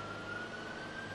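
Police car siren in a Dept. of Justice cops video game, a steady high wail held across the moment, faint and somewhat distant under engine rumble.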